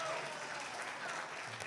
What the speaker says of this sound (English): Evan Williams, round of applause.